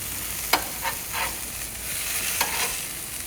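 Burgers sear and sizzle on a hot griddle beside a simmering sauce, a steady close frying hiss broken by a few sharper spits and crackles, with no talking.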